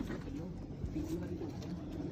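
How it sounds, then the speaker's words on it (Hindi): A Wadi Nondar strain pigeon coos softly in a loft, low rolling murmurs blending with someone talking nearby over a faint background hum. "ये कबूतर आपको दिखाया जा रहा है"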